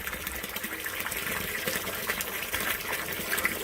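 Meltwater during a thaw runs steadily through a yard sump drainage system with stone-filled inlets, making a constant close gushing and trickling wash with no voices.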